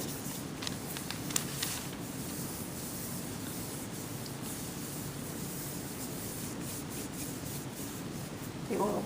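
Oil is rubbed between hands and onto skin after an arm wax, a soft, continuous swishing friction with a few faint taps, close and fairly quiet, with no talk.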